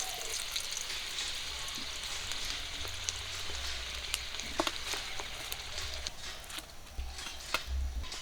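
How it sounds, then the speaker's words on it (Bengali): Panch phoron, green chillies and chopped onion frying in hot oil, a faint, steady crackling sizzle with scattered pops and spits, heard close without talking. "গরম তেলে দিয়ে দিচ্ছি পাঁচ ফোড়ন কাঁচা লঙ্কা আর পেঁয়াজ কুচি"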